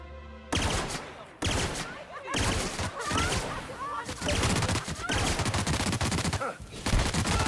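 Sustained gunfire in The Outer Worlds, with dense bursts of automatic shots and rapid volleys that continue almost without a break, loud and close after a brief quiet opening, and a faint voice now and then underneath.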